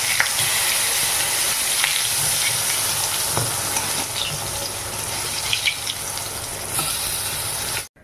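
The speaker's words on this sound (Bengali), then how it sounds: "তো এই যে দেখলে তো বেগুনটা ভাজা বসিয়ে দিয়েছি" Sliced eggplant fries in hot oil in a home kitchen, giving a steady, close, dense sizzle with faint clinks throughout that cuts off abruptly at the end, with no voices.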